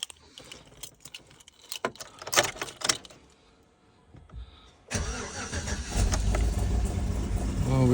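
Keys jingle and a few clicks and knocks, then a Chevy Tahoe V8 with a collapsed lifter and an exhaust leak cranks, catches, and settles into a loud, rumbling run.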